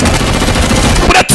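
Loud, continuous automatic machine gun fire from a film soundtrack rattles densely before cutting off abruptly near the end.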